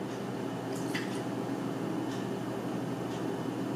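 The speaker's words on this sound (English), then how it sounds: "So what you do is you pour in the vinegar." Vinegar being poured into a household appliance's fill reservoir, a steady low liquid rush with a few faint drips and splashes, heard alone without talk.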